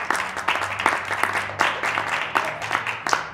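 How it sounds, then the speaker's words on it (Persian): An audience applauds a player leaving a Mafia party game, a short steady round of clapping lasting a few seconds with brief overlapping voices. "صادق رو تشویق کنیم از بازی میرن."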